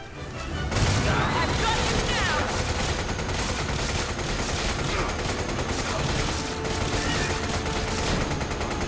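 Dense, sustained gunfire rattles throughout a Resident Evil 5 fight on infinite-ammo veteran mode, with rapid overlapping shots and crashes under a voice talking over the action.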